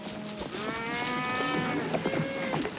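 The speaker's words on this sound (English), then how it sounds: "Cattle will be glad to get a drink." A herd of cattle mooing near a creek on open range, several long overlapping lowing calls in close succession, fairly near and clear with no talk.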